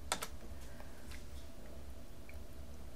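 A few quiet keystrokes on a computer keyboard, typing an AutoCAD command, click near the start and then give way to faint room hum.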